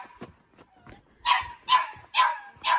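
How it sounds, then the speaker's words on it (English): Young puppies bark and yip in sharp, high-pitched bursts, a few soft yelps first and then four louder barks in a fairly even rhythm, coming from close by. "you can hear the new puppies"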